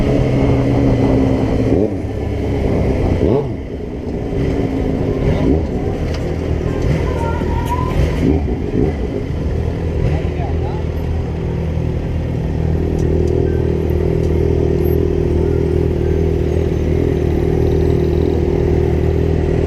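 A Kawasaki Z750 motorcycle engine drones loud and close while being ridden, with a low steady rumble and some clatter and wind noise.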